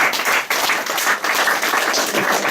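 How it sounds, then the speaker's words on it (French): An audience at a French-language talk applauds a volunteer, brisk steady clapping from a room full of people, close and fairly loud, with no speech over it. "On va applaudir notre volontaire."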